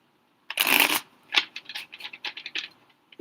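Tarot cards being shuffled by hand: a loud burst of riffling up close, then a quick run of softer shuffling slaps and flicks, with no talking.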